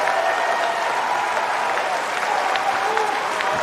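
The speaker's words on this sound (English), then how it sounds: "He's got the crowd on their feet for sure, Feast." A US Open tennis crowd applauds and cheers in a stadium, dense continuous clapping with scattered whoops filling the whole stretch at steady loudness.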